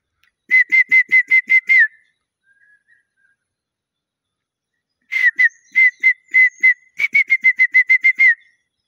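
Wild birds sing in a cypress forest, giving clear, close whistled notes repeated rapidly in bursts, with a few seconds of quiet between phrases.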